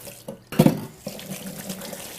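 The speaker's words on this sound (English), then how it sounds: "wash my hands" Water runs from a tap as hands are washed, starting with a brief splash and then a steady, close stream with some irregular splashing.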